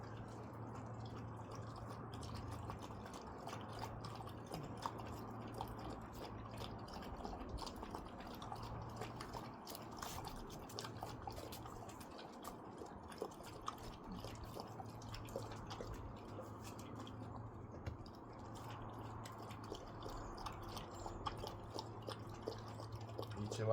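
Dogs lap water from a bowl with continuous soft, wet splashing and dripping that stays faint and close, while a low steady hum runs underneath.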